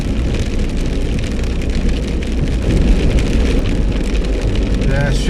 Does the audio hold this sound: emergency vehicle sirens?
no